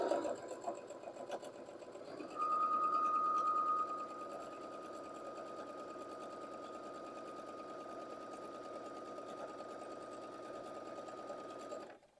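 A sewing machine stitches steadily along the seam of a half-square-triangle quilt block, a continuous close whir that briefly rises in pitch and speed early on before settling and stopping near the end.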